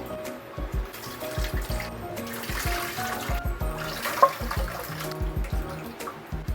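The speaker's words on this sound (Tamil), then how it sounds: "ஒரு மூணு நாலு தண்ணி இட்டு கரைச்சி நம்ம வடிகட்டிக்கலாங்க" Tamarind being mixed by hand in water and strained, water sloshing and trickling in short bursts, close by, with low thumps beneath.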